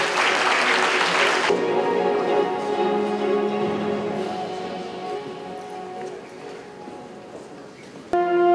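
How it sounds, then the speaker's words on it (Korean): Warm audience applause greets arriving guests at a city forum on carbon neutrality and green growth, loud clapping for about a second and a half that gives way to a lingering hall tone and a short sharp sound at the end. "따뜻한 박수로 환영해 주시기 바랍니다."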